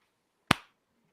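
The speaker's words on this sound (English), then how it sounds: "When did you do the clap?" A single sharp hand clap, close and alone in an otherwise quiet room, with a brief decaying tail.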